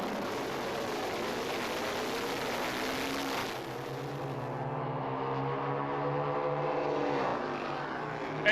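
Drag racing motorcycles at the AHDRA Indy Nationals roar down the strip in a sustained, high-revving engine howl whose pitch rises and sweeps as they pass, heard from a moderate distance with no voices.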